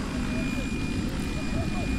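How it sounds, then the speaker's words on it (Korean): Small camera helicopter drone buffeted by strong wind on a cliff edge, a steady droning rotor whine mixed with heavy wind rumble, continuous and fairly loud throughout. "바람을 타고 하늘 높이 날아올라 버린 헬기."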